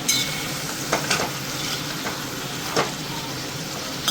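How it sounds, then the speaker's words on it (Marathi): Green ginger-garlic chutney is stirred into cluster beans in a pan over a steady close sizzle, with a few soft scraping strokes of the spoon and no talk. "हिरवी चटणी आपण खालवर करून घेऊया."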